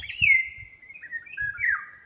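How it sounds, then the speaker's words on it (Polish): Small birds sing close by in a quiet garden, two bright, high warbling phrases in quick succession with soft low thumps beneath and no speech. "Witam się z Wami tym pięknym śpiewem ptaków."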